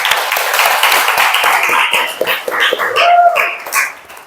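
Classroom students applauding after a group presentation, a burst of dense clapping mixed with excited voices and squeals, loud and close, fading near the end.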